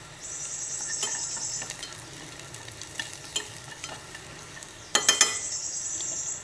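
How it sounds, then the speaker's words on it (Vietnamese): Aromatics, including coriander roots, sauté in a pan with a soft, steady sizzle and occasional scraping stirs, rising to a brief burst of louder clatter and hiss toward the end. "Mình sẽ phi thơm."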